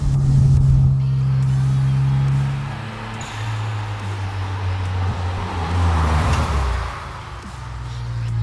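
Mitsubishi GTO (3000 GT) twin-turbo engine pulling steadily from inside the car on a tight road, a loud continuous drone rising and easing with throttle, wind and road noise around it.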